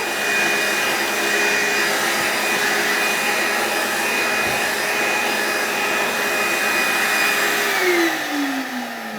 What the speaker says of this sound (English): Before we start actually cleaning, we like to vacuum.